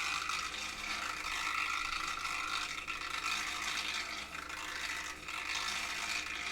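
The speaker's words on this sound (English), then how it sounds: "It's a loud little stir bar, isn't it?" A small magnetic stir bar spinning in tissue culture media gives a loud, steady whirring rattle with a gritty mechanical buzz, constant and close throughout, with no voices.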